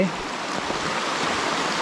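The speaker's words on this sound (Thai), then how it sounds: "มาเยี่ยมชมน้ำตก นางคอยนางครวน พนึงหา แล้วก็ น้ำตกหลงไหล" A waterfall rushes steadily in the Thai countryside, a continuous broadband wash of falling water heard alone, moderately loud and unchanging for the short moment.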